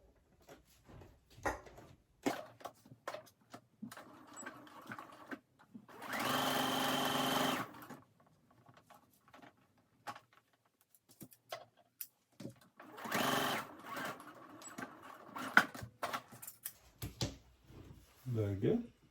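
A sewing machine topstitches the front pocket of men's pants in two bursts of steady, rapid whirring, close and clear, with a person talking and handling fabric in between.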